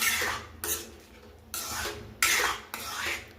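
Semolina upma being stirred in a pan with a spoon, giving repeated rasping scrapes in short bursts about every half second to second, close and fairly loud, with no voices.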